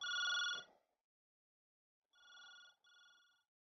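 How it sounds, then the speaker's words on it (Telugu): Telephone bell ringing in a quiet home, one long ring followed after a pause by two shorter electronic rings, clear and isolated with no voices. "ఫోన్ రింగ్ అవుతుంది చూడు"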